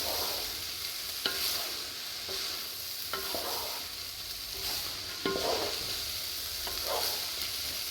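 Paneer pulao gets stirred in a pan under a soft continuous sizzle, with periodic scrapes and knocks of a spoon against the metal every second or so, close and without talk.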